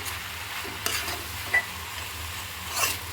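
Raw jackfruit curry with black pepper and curry leaves is mixed in a pan, with a soft sizzle and a few brief stirring scrapes, close and fairly quiet.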